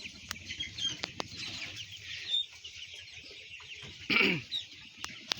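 Chickens crowded inside a poultry shed, a dense chorus of clucks and chirps with a few sharper squawks and a brief burst of wing flapping, close and continuous.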